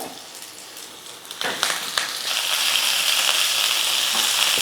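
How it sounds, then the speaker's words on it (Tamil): Spinach fries with green chilli and ginger in a pan: a few clattering stirs land, then the sizzle swells into a bright, steady hiss that stays loud and close, with no speech. "இந்த கீரையை நல்லா வதக்கிக்கலாம்"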